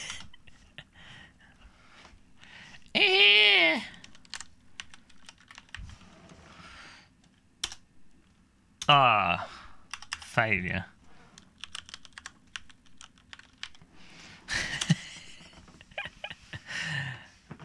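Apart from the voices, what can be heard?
typing on a computer keyboard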